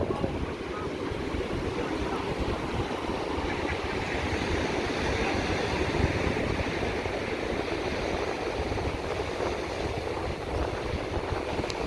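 Loud, steady wind buffets the microphone throughout an afternoon street walk in Benidorm, a constant broadband roar with rumbling low gusts and no pauses.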